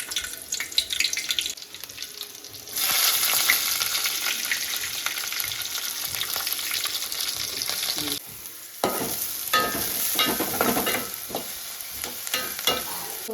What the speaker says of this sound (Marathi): कांदा टोमॅटो मिरची बटाटा त्याच्यामध्ये ॲड करू आपण इकडं मस्तपैकी आपण ऑइल टाकू